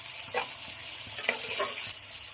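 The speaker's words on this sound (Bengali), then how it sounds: "ভাজার জন্য নেড়ে দেবো।" Chopped tomato frying in a pan with reddened fried onions for chicken do pyaza, stirred with a few distinct scraping strokes over a steady close sizzle, no talking.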